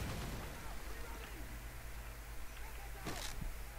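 A grenade blast in Call of Duty MW3 lands as a distant, low rumbling boom inside a steady drone of combat noise. One brief sharp burst comes near the end.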